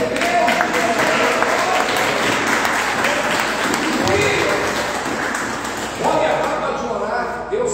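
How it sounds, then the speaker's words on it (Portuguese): A church congregation applauding the Lord during a sermon, a dense, sustained wash of clapping from a large crowd that fills the space, with a preacher's voice carrying over it. "Você pode aplaudir ao Senhor, gente?"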